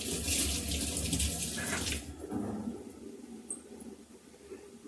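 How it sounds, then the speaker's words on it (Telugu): Tap water runs steadily as curry leaves are rinsed under a kitchen faucet, a loud splashing gush for about two seconds that then drops to a quieter trickle and dripping. "కరివేపాకు కడిగి వేస్తాను."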